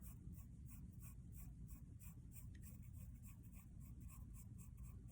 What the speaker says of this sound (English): I'm barely touching my pencil to my paper